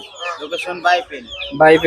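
Chickens cluck and squawk up close at a live duck and chicken market, in short overlapping bursts, with a person speaking among them.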